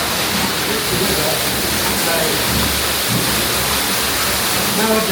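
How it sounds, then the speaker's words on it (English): Water from a pumping station's condenser pours down into a river, making a steady, loud rushing roar like a waterfall, with faint talking under it. "what you see there is water from the condenser going down, trying to get back to the pump"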